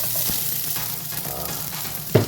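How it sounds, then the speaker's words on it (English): Onion pieces frying in hot oil in a pan, a steady close sizzle and crackle throughout with a brief louder hiss near the end, no talking. "Put some oil in your other pan. We're going to do a twist on a fried bologna sandwich. Add in some onion."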